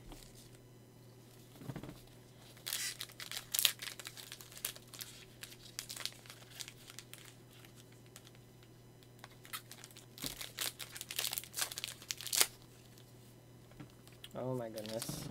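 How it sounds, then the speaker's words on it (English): A Pokemon Celebrations card pack wrapper is crinkled and torn open up close in bursts of sharp foil crackling and ripping over a low steady hum, with a brief voice near the end. "And I tried to pull it apart, but oh my, just completely destroying this pack."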